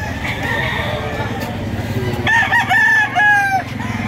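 Roosters crow at a busy chicken market in Lipa, Batangas, one clear drawn-out crow standing out near the middle over a background of clucking fowl and market chatter.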